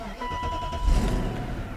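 A BMW engine run with no oil in it settles into a steady idle, a low continuous rumble with a faint whine above it, heard up close and alone.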